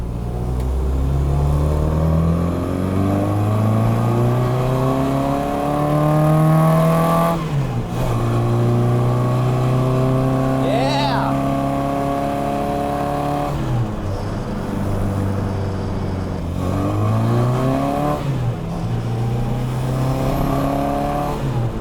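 A 1965 Austin Mini Cooper MKI engine is heard from inside the car while driving, loud and close, revving up repeatedly through the gears with a rising pitch and short drops at each shift, with no talking.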